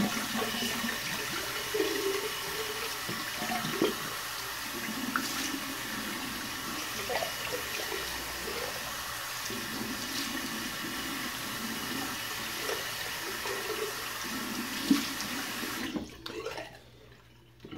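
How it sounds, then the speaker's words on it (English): Cold tap water running steadily into a sink for a rinse during a shave, a continuous close splashing rush that carries on for many seconds before cutting off near the end. "Cold water rinse."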